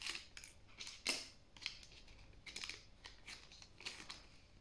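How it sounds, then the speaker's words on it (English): Scissors snip through a glued Pokémon card booster pack in a string of quiet, crisp cuts with small crinkles of foil packaging between them. "We're gonna have to cut these off."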